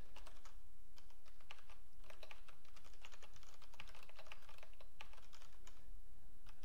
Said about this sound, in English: now this is the first time we're typing it